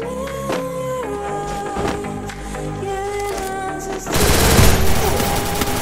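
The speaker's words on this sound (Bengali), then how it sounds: "MP40 নিচ্ছি, MP40 দিয়ে হেডশট দিতে হবে।" Gunfire from an MP40 submachine gun in the mobile battle-royale game Free Fire, heard as rapid bursts over game music, with a louder, denser burst near the end.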